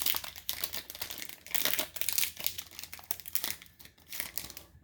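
Scissors cut open a crinkly plastic wrapper on a Digimon trading card pack, giving a run of close, loud crinkling and rustling bursts with brief snips and no talk.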